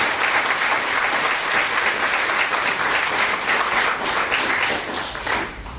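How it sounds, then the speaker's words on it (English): Audience applause at a university event at UC Merced, dense and steady clapping from a sizable crowd filling the room, sustained at full strength before easing slightly at the end. "I'd like to give him another round of applause"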